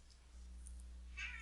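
A pet cat meows faintly in the background of a quiet room, one soft cry near the end over a low steady hum.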